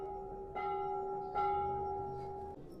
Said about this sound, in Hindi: गाइस, देखो कितना बड़ा घंटा किसी ने चढ़ाया हुआ है।